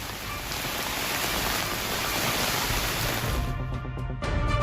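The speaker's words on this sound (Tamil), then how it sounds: "சேலம் மாவட்டம் கெங்கவள்ளி மற்றும் சுற்றுவட்டார பகுதிகளில் 1 மணி நேரத்துக்கு மேலாக பரவலாக மழை பெய்தது" Heavy rain falls steadily across the Gengavalli area of Salem district in Tamil Nadu, a dense, close hiss that holds constant for several seconds before briefly thinning.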